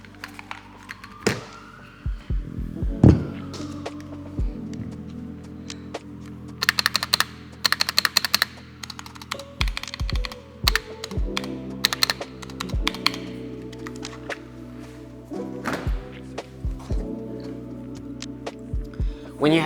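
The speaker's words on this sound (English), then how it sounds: "just to give you an idea how a mechanical keyboard spacebar would sound like" Mechanical keyboard keys clack in uneven bursts of typing over a low steady hum, with some heavier thocks standing out.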